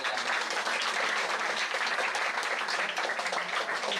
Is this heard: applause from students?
yes